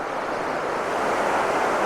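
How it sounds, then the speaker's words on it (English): Roughlock Falls on Spearfish Creek pours down in a steady, loud broadband rush of falling water, close and continuous with no voices. "as the waterfall comes down and forms a little eddy right in here"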